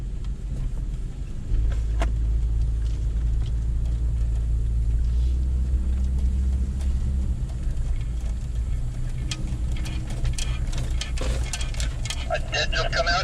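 A Jeep on a sandy off-road trail near Ocala gives off a steady low engine rumble close by, with bumps and rattles rising toward the end, and speech runs over it.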